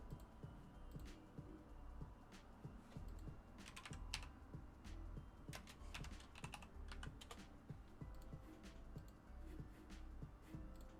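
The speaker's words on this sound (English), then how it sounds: "typing names in this deck" Steady typing on a computer keyboard, with rapid uneven clicks and a few louder key presses over quiet room noise, fairly close and fairly soft.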